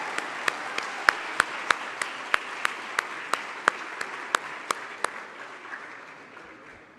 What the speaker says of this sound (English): let's give them one more round of applause as they take their seats